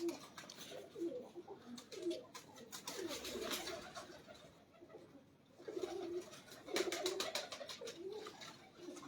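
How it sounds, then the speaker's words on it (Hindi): White pigeons from a fancier's loft coo in soft repeated bursts near the microphone, with faint bird calls and background rustle between phrases. "ये वही कबूतर है ना बड़ा जी तार वाला?"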